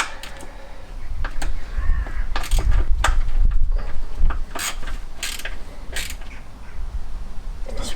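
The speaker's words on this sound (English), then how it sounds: "Get our 13 ratchet in here and do these up tight." A size 13 ratchet tightens bolts while a classic Fiat 500 engine is refitted, giving repeated close, sharp clicking bursts in several quick runs, with quieter handling noises between them.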